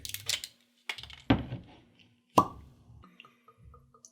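Rum poured into a glass, heard as a few short liquid plops and splashes separated by brief pauses, close and fairly quiet with light clinks of glassware.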